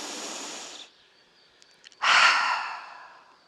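Deep yoga breaths during a vinyasa shoulder-release exercise: a long soft breath, a short pause with faint clicks, then a forceful, airy exhale that slowly fades, close and clear.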